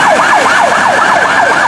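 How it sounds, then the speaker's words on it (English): A toy ambulance siren wails loudly and close, rising and falling in rapid, evenly repeating cycles with no talking. "this ambulance car?"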